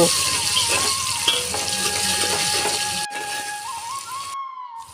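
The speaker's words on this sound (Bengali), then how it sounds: "রসুন বাটাটাকে ভালো মতো ভেজে নেব" Garlic paste fries in a pan with a dense, steady close sizzle and faint tonal whines, cutting off abruptly near the end.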